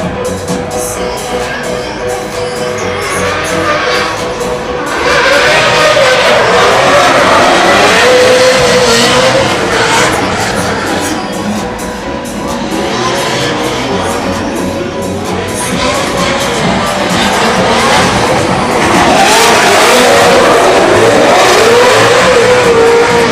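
American V8 drift cars, a Dodge and an RTR Mustang, rev hard and roar at a drift practice in Ireland, with loud engine surges rising and falling over a faint crowd.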